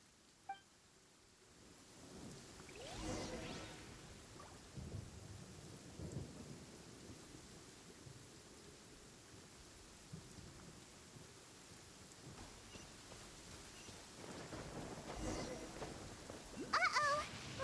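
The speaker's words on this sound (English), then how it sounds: "Lightning storm!" Thunderstorm in Genshin Impact with rain hissing steadily and several deep rumbling thunder rolls swelling and fading; a voice speaks briefly over it.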